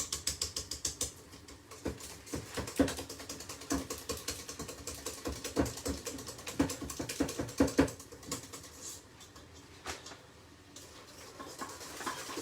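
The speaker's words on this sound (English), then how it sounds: "We're going to mix this sweet potato in" Sweet potato being worked into homemade pizza dough, with soft irregular tapping, squishing and clacking of the dough and utensils close by, in bursts through the whole stretch and with no talking.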